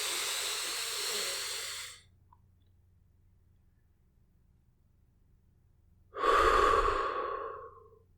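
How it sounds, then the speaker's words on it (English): A slow, deep breath drawn in through the nose, a few seconds of silence, then a long airy exhale out through the mouth, close and quiet, fading at the end. "Just another big slow breath in through the nose and out through the mouth."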